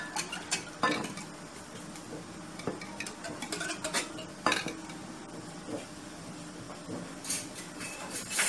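Sifted flour being stirred by hand in a bowl for a flour-and-milk bread dough, giving soft intermittent scraping and light clinks against the bowl in a quiet kitchen.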